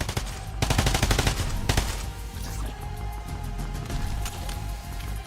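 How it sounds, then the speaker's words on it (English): Guns being tested in a Counter-Strike practice range: a fast automatic burst for over a second, a brief second burst, then a few scattered shots fading into quieter background noise, with no talking. "Just buying guns and testing them out."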